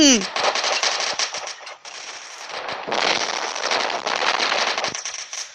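Dense, rapid automatic gunfire in a shooting video game, loud and continuous, crackling in long bursts with brief gaps.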